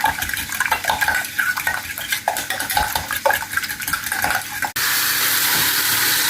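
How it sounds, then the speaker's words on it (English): Cake ingredients are whisked in a bowl in a French home kitchen: rapid, irregular metal-on-bowl clinks and scrapes close by, ending in an abrupt switch to a steady rushing noise. "Just whisk those in."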